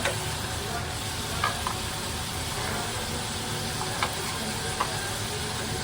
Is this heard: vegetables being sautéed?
yes